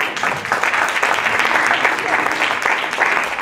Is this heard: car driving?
no